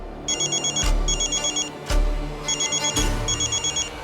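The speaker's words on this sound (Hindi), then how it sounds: "हेलो सर, उनका फ़ोन आ रहा है।" A telephone rings in clear repeated electronic double bursts, fairly loud and steady, inside a tense police office with a low background hum.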